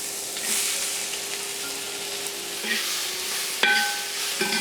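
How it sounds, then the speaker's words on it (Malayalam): Shallots sautéing in oil in a pan, a steady close sizzle with occasional stirring scrapes and brief clinks of a utensil against the pan, no talk. "ഇതേ ചട്ടിയിലോട്ട് ചെറിയുള്ളി ഇട്ട് വഴറ്റിയെടുക്കാൻ പോവാണ് കേട്ടോ"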